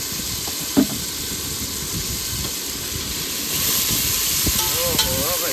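Spices sizzle in hot oil for tempering a homemade curry, a loud steady hiss that thickens partway through, with a clink and faint voices in the background.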